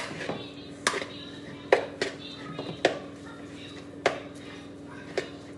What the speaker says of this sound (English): So I'm going to mix the onions up with the tatties.